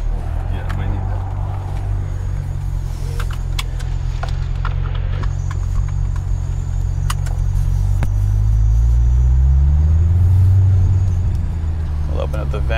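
A 2008 Ford Mustang GT500 pulls away, its engine a deep steady rumble heard from inside the cabin, rising in pitch as it accelerates near the end, with the occupants talking over it.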